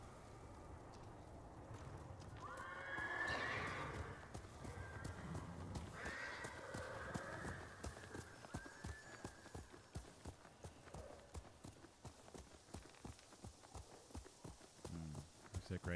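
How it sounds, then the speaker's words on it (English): Horses neigh and whinny in Ghost of Tsushima, followed by a long run of rhythmic hoofbeats clip-clopping at a steady pace. Speech is heard over parts of it. "Is that, like, one of their horses?"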